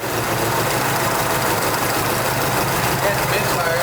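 An old Jeep left abandoned for years idles on its own power with a misfire, a steady, rough, uneven engine drone close by with a constant busy noise over it.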